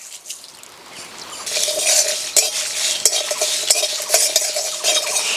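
Whole spices being dry-roasted in a dry pan: dried red chillies, cashews, whole coriander and cumin, stirred with a utensil that scrapes and clinks repeatedly, rattling grains close by and growing busier after the first second.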